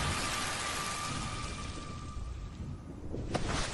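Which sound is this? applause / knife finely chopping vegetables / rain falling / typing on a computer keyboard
rain falling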